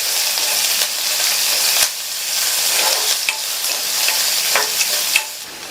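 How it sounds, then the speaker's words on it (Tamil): Crushed garlic, onion and curry leaves sizzle in hot oil in a pan, a bright continuous frying hiss close up, broken by the scrape and clack of a spoon stirring several times. "இது கூட கறிவேப்பிலை சேர்த்து எல்லாத்தையும் லைட்டாக 1 நிமிஷத்துக்கு வதக்கி விட்டுக்கலாம்"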